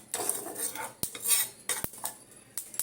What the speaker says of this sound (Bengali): প্যান চাপিয়ে আমি তিলটাকে একটু শুকনো খোলাতে একটু ভেজে নিচ্ছি